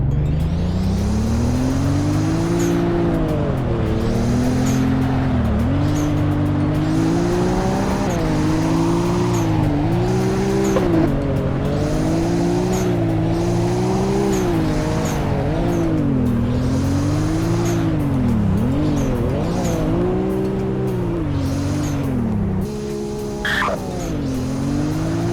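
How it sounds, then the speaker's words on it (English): A Nissan R34 Skyline in a video game drives slowly around a dealership. Its engine drone is loud and steady and rises and falls with the throttle, with brief tyre squeal near the end and no talking. "Do a pretty subtle drive around the dealership in the R34."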